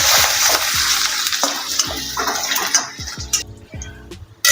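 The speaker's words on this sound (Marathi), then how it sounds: "आता आपल्याला लसूण आणि हिरवी मिरची चांगली भाजून घ्यायची" Chopped garlic and a green chili frying in a pan, a loud, steady sizzle with spatula stirring that eases slightly toward the end.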